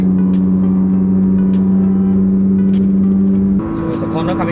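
A 2013 Perodua Myvi on adjustable coil-overs drones steadily from inside the cabin at about 120 km/h highway cruising speed, with a brief shift in tone near the end.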